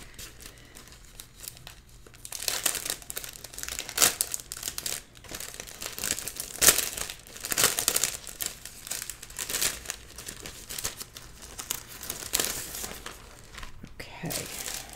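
Rice paper crinkling and rustling while being wrapped around the spine of a Stamperia Christmas mini album, steady close crackles over about fifteen seconds with a few sharper crisp peaks.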